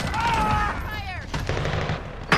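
Gunfire in Call of Duty Warzone during a Rebirth Resurgence match: automatic weapon bursts crackle beneath game voices and tonal effects, with a sharp, loud shot closing the moment.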